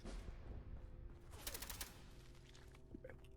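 Submachine guns fire in a Fallout video game as one short, rapid burst of gunfire, faint and distant-sounding, against quiet background game noise.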